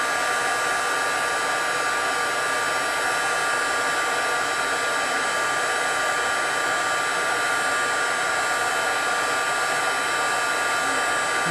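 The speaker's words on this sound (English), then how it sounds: "This is the heat tool. And you just blow it right on." A handheld heat tool blasts hot air onto chili peppers, giving a loud, steady, close whooshing roar that runs unbroken for the whole stretch.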